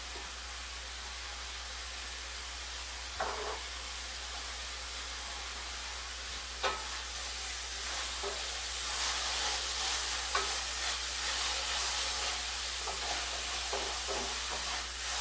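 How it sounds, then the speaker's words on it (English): Food sautes in a pan on the stove for large-family scratch-made freezer meals, giving a steady soft sizzling hiss with occasional stirring clinks and scrapes, fairly quiet and without talk. "Those are sauteing nice."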